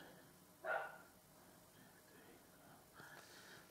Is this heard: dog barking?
yes